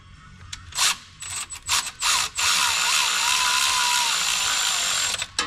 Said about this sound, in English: being very careful not to over tighten these bolts